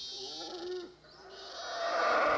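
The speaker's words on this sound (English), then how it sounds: "The monkeys that had howled at the team the night before tried once again to drive the intruders from their camp." Monkeys howl in the rainforest near a camp in a few drawn-out, wavering calls over a dense background hiss of the forest. No voices are heard.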